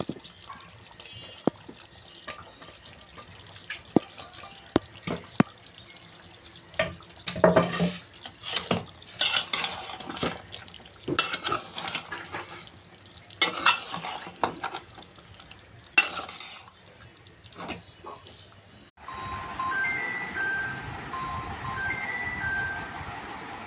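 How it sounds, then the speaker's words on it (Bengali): Fried potatoes are stirred into beef curry in a pan, with a spoon scraping and clinking against the metal in irregular strokes. After a pause, a soft continuous sizzle takes over. No one talks. "মাংস কষানো শেষ, এখন ভাজা আলুগুলো দিয়ে দিচ্ছি।"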